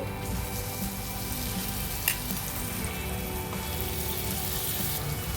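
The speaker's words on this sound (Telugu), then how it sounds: "ఇందాక మిక్సీ వేసుకున్న ఉసిరికాయ తురుము వేసేసుకోవాలండి" Grated amla hits a hot tempering with turmeric in the pan, giving a steady, close sizzle and crackle that holds through with a brief sharper pop, no voices.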